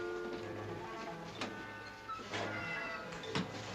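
A cat in a cellar gives a few short, quiet meows spaced about a second apart over a low, steady background.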